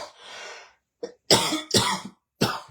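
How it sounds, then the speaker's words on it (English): A breathy exhale followed by several sharp coughs and a throat clear, close up, with brief silences between bursts. "my cough's not gone yet"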